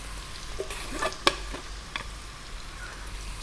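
Ginger garlic paste with fresh chili sizzles in a hot pan over above-medium heat, a soft steady fry broken by a few sharp clinks and scrapes of a spoon stirring, close and alone.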